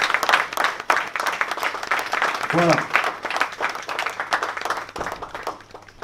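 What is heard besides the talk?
audience applause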